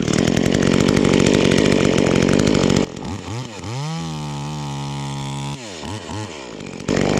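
A V-Modest 2511 top-handle chainsaw, a clone of the Echo 2511, cuts through wood. The two-stroke engine howls loud and close, drops to a sputtering idle that rises and falls, then revs back up to full cutting speed.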